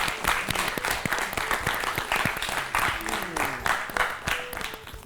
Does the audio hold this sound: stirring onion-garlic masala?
no